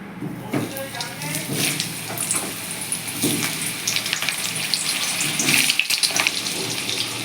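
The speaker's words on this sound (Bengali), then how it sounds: "এবার আমি আলুগুলোকে একটু ভেজে নেব" Potatoes frying in hot oil in a wok on a stove, a steady sizzle running throughout at moderate level with occasional stirring scrapes, under a speaking voice.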